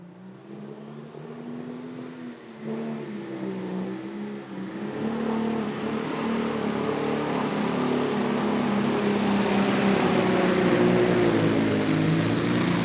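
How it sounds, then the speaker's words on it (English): A brand-new John Deere 8R340 pro stock pulling tractor roars on a pulling track at the county fair in Goshen, Indiana, its engine note climbing and swelling steadily louder as it strains down the track, with no voices over it. "so that John Deere 8R340 tractor, brand new machine out on the circuit."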